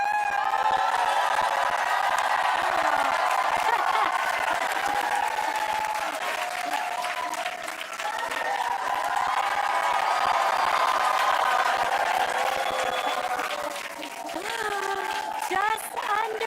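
Crowd of spectators at a SpaceX Starship Flight 7 launch viewing site applauding and cheering continuously, with sustained clapping, shouts and children's voices, fairly distant and steady with a brief dip near the end.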